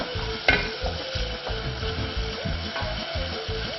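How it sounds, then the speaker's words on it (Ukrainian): Peppers sizzle and crackle steadily in a hot pan in a restaurant kitchen, with repeated scraping and stirring strokes from a utensil, close and moderately loud. "Нехай жариться. Нехай смажиться добре."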